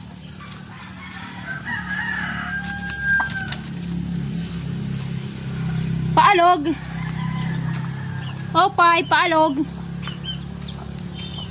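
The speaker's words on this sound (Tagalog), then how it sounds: "Mga alagang manok na pansabong dito sa kapitbahay." Fighting roosters kept by a neighbour crow twice in loud bursts over steady clucking and a low background hum, with someone speaking briefly between the calls.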